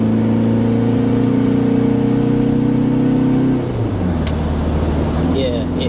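London Taxi TX4 converted into a flatbed lorry, unladen, accelerating hard: a loud, steady engine drone with rising harmonics that shifts pitch and roughens partway through as the revs change, close and continuous.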